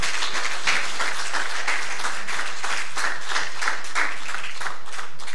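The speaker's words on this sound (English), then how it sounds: "Give the Lord another hand clap of praise" Church congregation clapping their hands together in praise during an Easter service, a dense, steady wash of many hands filling the room for several seconds with no speech over it.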